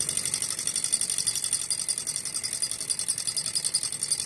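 A small Stirling engine running with its speed throttled by a valve between its cylinders, giving a rapid, even mechanical whirring and ticking like a sewing machine, fairly faint and close, with no talking.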